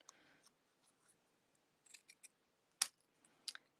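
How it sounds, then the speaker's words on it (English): Scissors snipping paper sentiment strips for stamped autumn cards, a few faint scattered cuts followed by two sharper, closer snips, with quiet pauses between. "all you have to do is just snip in between these words"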